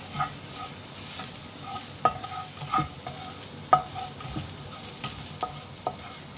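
Minced garlic sizzling in a pan for tufo, a soft steady fry broken by several sharp scrapes and stirs of a utensil, close by with no voices.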